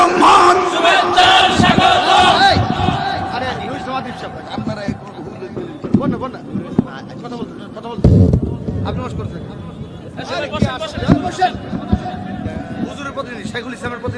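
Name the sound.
crowd chanting Allah in unison at a religious gathering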